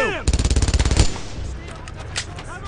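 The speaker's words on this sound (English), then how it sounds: "Suppress that MG42!" MG42 machine gun in the Brothers in Arms: Earned in Blood video game fires one loud, rapid burst of about a second, then leaves ringing battle ambience and distant scattered gunfire.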